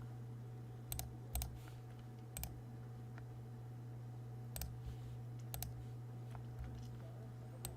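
A password typed on a computer keyboard: a few separate clicky keystrokes in small clusters over a steady electrical hum, close and fairly quiet.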